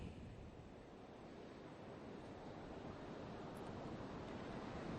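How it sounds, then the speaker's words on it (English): Ocean waves wash onto a beach in the video game Shadow of the Colossus as a continuous, faint, soft rush of surf with no distinct breaks. "Take a look at this beach."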